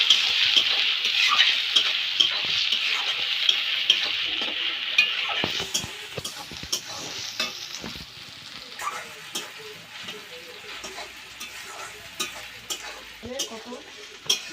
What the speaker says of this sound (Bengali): রসুন পেঁয়াজটা একটু লাল লাল করে একটু ভেজে নিয়ে